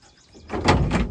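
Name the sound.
van rear door latch catching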